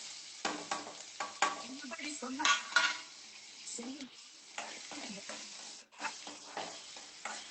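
Food sizzles in a pan during late-night home cooking, with close, irregular clinks and scrapes of stirring utensils against cookware, and a voice speaks briefly at times.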